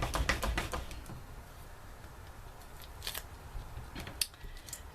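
Scissors snip through cardstock while a butterfly retirement card is being made, giving quick crisp cuts in a flurry at first, then sparser snips and a few louder clicks, all close and quiet.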